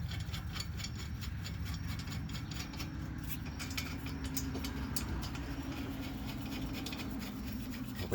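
Small hand ratchets tighten the front brake caliper bolts on a 2016 Toyota Camry XSE, a run of quick, faint mechanical clicks over a steady low hum of the surroundings.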